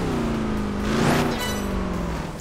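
A racing car engine in Project Gotham Racing 4 with a buzzy, two-stroke-like tone, droning steadily with a rising rev swell midway before settling, loud and close with no talk.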